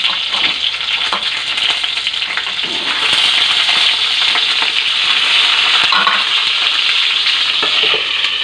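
Eggplant frying in a pan, with water in it making the oil spit and splatter; a loud, continuous sizzle with crackling bursts and no talking.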